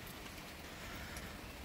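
Rain falling in a spring downpour, heard as a very faint, continuous broadband hiss with no distinct drops or other sounds.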